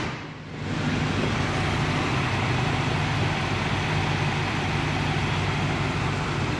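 A 1984 Cadillac Eldorado Biarritz engine idles close by: after a brief quieter moment, a steady, even low hum and rumble runs unbroken to the end with no talk.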